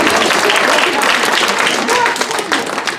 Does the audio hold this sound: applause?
yes